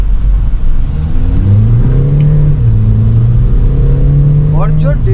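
A 2015 Volkswagen Vento TDI diesel automatic, with traction control switched off, pulls away and accelerates, its engine note droning loud and close and climbing in pitch as the revs build through the run.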